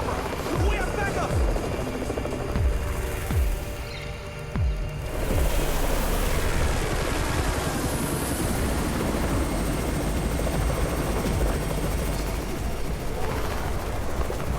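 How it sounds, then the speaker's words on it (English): In a video game, a helicopter's rotor thumps and roars close by as it arrives, with rushing wind-like noise and a brief dip in the middle, loud throughout. "It's the Raven chopper!"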